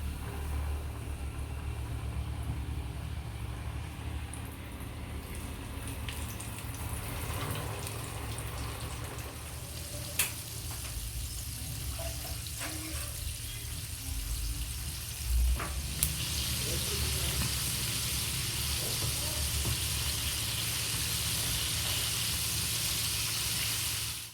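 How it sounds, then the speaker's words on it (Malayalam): Chicken pieces for homemade KFC-style fried chicken hiss and sizzle steadily in hot oil, a constant broadband frying noise with a few brief clicks and pops over a low background hum. "ഈ ചിക്കൻ പീസിനെ ഓരോന്നായിട്ട് നമുക്ക് എണ്ണയിലിട്ട് ഫ്രൈ ചെയ്തെടുക്കാം"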